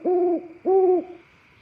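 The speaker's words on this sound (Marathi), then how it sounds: "पिंगळे ओरडू लागले" Two long, wavering hoots from owlets calling at dusk, each lasting about a third of a second and separated by a short pause, close and clear over a quiet background.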